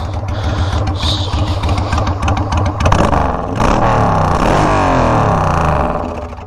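A Suzuki motorcycle engine runs loud and close, a steady idle rumble that swells into a fuller, rising rev partway through and holds there before easing slightly at the end.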